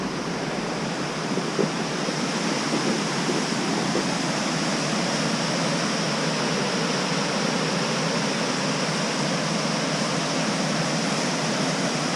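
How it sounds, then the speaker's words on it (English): A waterfall near a meadow campsite in Kings Canyon National Park pours with a steady, broadband rushing roar, constant and close, with no voices over it. "There's another really pretty waterfall here."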